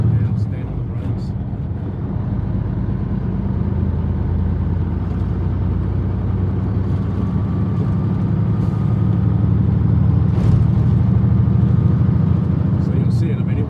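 A car drives at speed on a highway between Joliet, Illinois and Angola, Indiana, giving a loud, continuous roar of engine and road noise throughout with no clear braking break.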